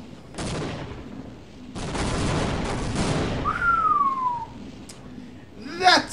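In Half-Life: Opposing Force, two loud bursts of blast and rumble follow each other closely, then a falling whine and a few sharp game effects.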